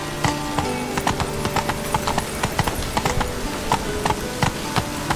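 Roach, the horse in The Witcher 3, gallops with fast, rhythmic hoofbeats pounding steadily and close. The clip-clop rhythm continues without pause while rain and weather noise hiss behind it.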